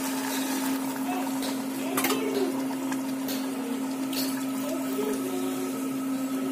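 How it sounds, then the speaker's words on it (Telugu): Water poured into a pot of tamarind-based pulao mix, a steady continuous splashing wash under a constant low hum, with faint background voices. "తర్వాత కొన్ని తగినన్ని వాటర్ వేసుకోవాలి"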